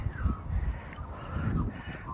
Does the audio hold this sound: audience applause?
no